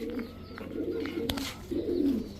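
A green-eyed female maxi racer pigeon and other racers coo in low, rolling, continuous calls nearby, steady and moderately loud with no voices.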